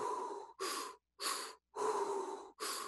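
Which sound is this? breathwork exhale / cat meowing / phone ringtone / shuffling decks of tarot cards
breathwork exhale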